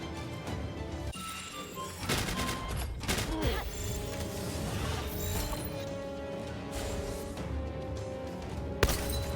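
Rapid gunfire bursts in Palworld, the shots passing through a wall, loud and close over a busy game soundtrack, with a few sharp crashes and a final hard impact.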